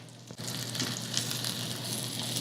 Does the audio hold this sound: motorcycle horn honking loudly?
no